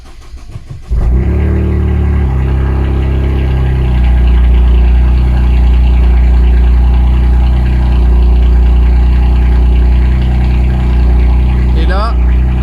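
A Toyota Yaris GR engine cranks and fires up after a brief starter whir, then settles into a loud, steady running rumble that swells slightly as it continues, heard close with no clear talk over it.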